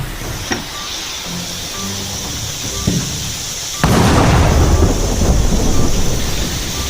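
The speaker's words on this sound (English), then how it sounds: "We're having like a typhoon type of thing, tropical storm." A tropical storm in Florida brings light rain pattering before a sudden loud thunderclap breaks in, followed by a heavy rumbling roll mixed with the hiss of rain.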